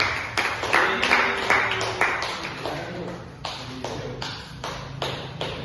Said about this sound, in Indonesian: Oke, beri aplaus dulu untuk beliau